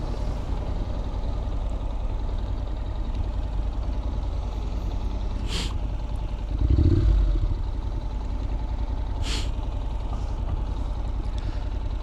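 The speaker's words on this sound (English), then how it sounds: "this engine is very unintrusive and good sounding" A Honda NC700X motorcycle engine runs steadily while riding, a low continuous drone with wind rush, a brief deeper swell near the middle and two short sharp ticks, with no talk over it.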